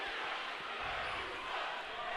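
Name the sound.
basketball crowd reacting unhappily to a foul call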